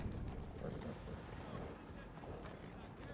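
Horse hooves clip-clop at a steady pace in the Red Dead Redemption 2 game world, a continuous rhythm under a dense game soundscape with voices in the mix.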